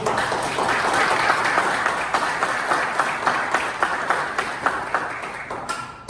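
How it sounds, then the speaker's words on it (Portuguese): A church congregation applauds during a sermon service, a steady dense wash of clapping from many hands that holds evenly for several seconds before tapering off at the end. "Vamos aplaudir a palavra do Senhor."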